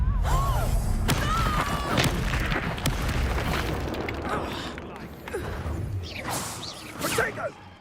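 Confringo blasting spell in Hogwarts Legacy, a whooshing cast followed by a booming burst and rumbling debris, amid other game effects while a player calls out spells.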